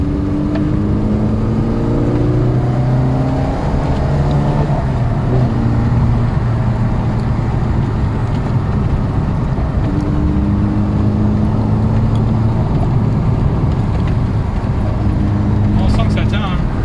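A vintage Volkswagen Golf 1 GTI engine drones steadily up close while driving, its pitch rising and falling, with voices talking over the motor throughout.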